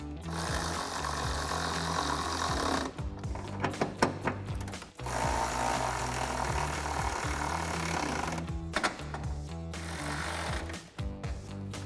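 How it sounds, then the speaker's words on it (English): A power tool with a 10mm socket tightens bolts during a 2013-2014 Ford Mustang headlight install, buzzing loudly and steadily in several long bursts separated by brief pauses and clunks, with no speech. "Now we can grab our 10mm socket and tighten down all of our bolts."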